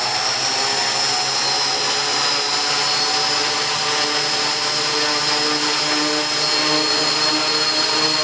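Six electric motors of a hexacopter run steadily at half throttle indoors, a loud continuous whine and rushing whoosh of propeller wash holding even throughout with no talk.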